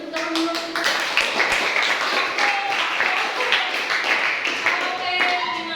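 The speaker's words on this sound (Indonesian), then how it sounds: "Kita tepuk dulu" Classroom clapping in rhythmic bursts, a group of students striking their hands in a patterned beat with a few voices mixed in.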